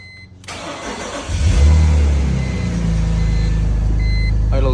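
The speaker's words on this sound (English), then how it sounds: "here's the cold start video on the E46 ZHP" A cold BMW E46 ZHP engine cranks briefly, catches with a loud rev, then settles into a steady idle, heard close and alone.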